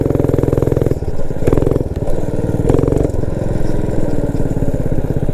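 A Motovox minibike with a Predator 212 engine runs close by, a loud, steady small-engine putter with a rough buzzing note. Revs swell briefly a few times before it settles back to a fast idle, and no one talks.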